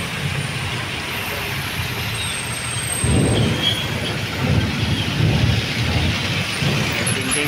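Heavy traffic rumbles along a rainy street with a steady low roar of engines and wet road noise, swelling as heavier vehicles pass nearby.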